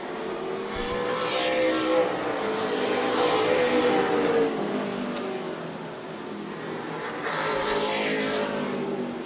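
NASCAR weekly racing stock cars roar around the Tucson Speedway oval, a dense, continuous engine drone that swells as the pack passes close, fades briefly, then builds again.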